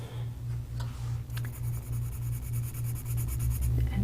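A black pencil scratches across paper in short repeated strokes, close and quiet, over a faint steady hum.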